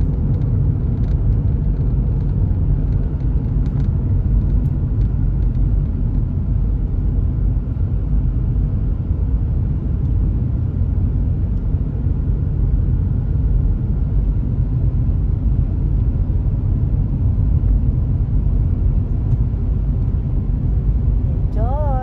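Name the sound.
car driving through downtown Calgary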